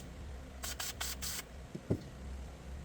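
Short bursts of spray blasting through a 1984 Honda ATC 200M carburetor: four quick hisses in a row, fairly close, followed by a couple of faint knocks against a low background hum.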